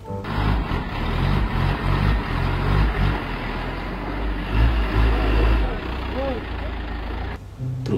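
A blue cement mixer truck's engine rumbles nearby with an uneven, pulsing low drone that swells and dips throughout.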